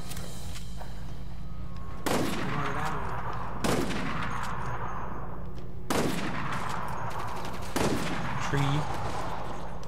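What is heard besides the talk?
gunfire from guns in the video game Resident Evil Operation Raccoon City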